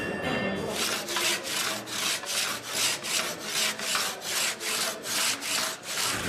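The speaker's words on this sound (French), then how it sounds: "Tu prends la scie, là, tu essayes de couper." A hand saw rasps through wood in even back-and-forth strokes, about two per second, close and loud, with no talking.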